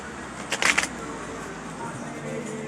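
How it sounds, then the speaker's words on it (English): Tarot cards being shuffled in a short, crisp riffling burst near the start, then quiet room tone with soft background noise. "Hold on, let me shuffle."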